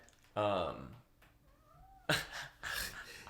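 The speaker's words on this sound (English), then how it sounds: "The cat came in." A cat wanders into a podcast recording room and gives a couple of short meows, close and fairly quiet, between brief bursts of nearby voices.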